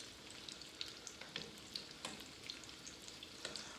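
Smoked sausages browning in a pan give a faint, steady sizzle with scattered soft pops and crackles, heard up close with no voices.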